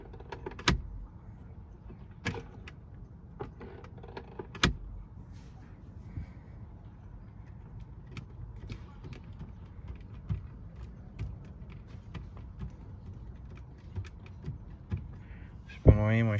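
A Skoda Kodiaq glovebox, refitted after fixing a creak, is pressed repeatedly inside the car, giving quiet, sharp clicks and taps at irregular intervals over a low cabin hush.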